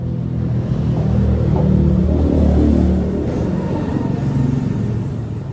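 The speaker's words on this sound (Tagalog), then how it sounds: "Nintay ko lang umalis yung ingay ng sasakyan, lalo na yung mga motor." Steady low rumble of road traffic, including motorcycles, with engines droning and swelling as vehicles pass nearby; no talking.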